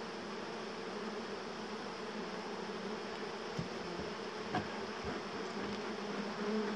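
Honey bees swarm at an open, vigorous hive packed with brood comb, giving a dense, steady buzzing drone with a few faint knocks, and no one speaking.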